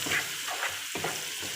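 Turmeric, cumin and coriander powders for a spicy meat curry fry in hot oil, a constant close sizzle with a few soft stirring scrapes over it.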